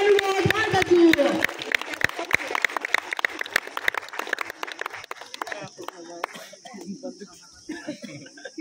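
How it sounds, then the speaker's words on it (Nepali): Applause from an audience at a school building inauguration ceremony in Dhankuta, Nepal, with many claps building into a dense burst, then thinning out, while a voice talks over part of it. "कृपया जोरदार ताली बजाइदिनु हुन म हार्दिक अनुरोध गर्दछु"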